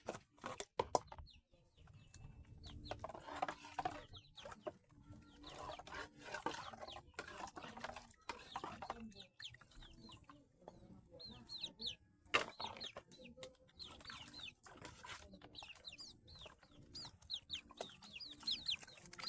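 Chickens clucking and calling at varying distances, with scattered bird chirps and some wing flapping over an outdoor background hiss.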